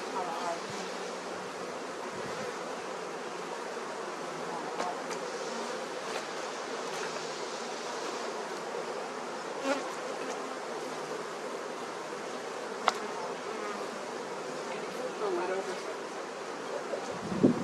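Honey bees buzz around a hive in a dense, continuous drone of many wings, close and steady throughout, with faint talking underneath.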